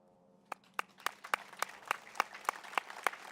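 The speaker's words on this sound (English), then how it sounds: "give you a round of applause." An audience at a Memorial Day ceremony in Moreno Valley applauds servicemen and women with steady, rhythmic clapping that builds after a quiet start and continues evenly, moderately distant, with no talking.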